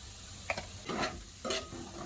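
Potato fry cooking in a pan, a soft continuous sizzle broken by a few short scraping stirs of a spoon, close and fairly quiet.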